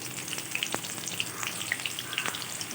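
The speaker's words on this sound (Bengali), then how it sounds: "এই আলুটা প্রথমে আমি তেলে ভেজে নেব" Potatoes fry in hot oil with a soft, constant sizzle dotted by small crackling pops and a couple of sharp ticks, fairly quiet and close.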